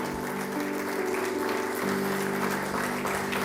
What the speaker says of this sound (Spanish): ¿Cuántos le damos un aplauso al Señor?